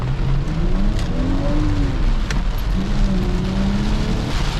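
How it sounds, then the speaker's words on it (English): Heavy rain pounds a Lexus IS300 on the move, a dense, constant hiss over a droning engine whose pitch rises and falls, loud and close, with nobody speaking. "This rain loud as shit, hitting hard."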